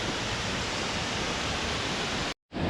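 Sathodi Falls near Yellapur roars as a steady, dense wash of falling water that stays loud and unbroken, then cuts out for a moment near the end.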